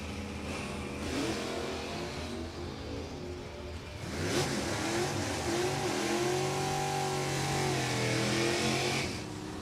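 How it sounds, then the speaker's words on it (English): Drag racing cars launching at a New England dragstrip, including an E Stock automatic big block Camaro; loud revving engines rise and roar continuously through the clip, surging again near the midpoint with no talk. "Thomas Fletcher and Jeff Coyne, the J Stocker and the E Stock automatic big block Camaro."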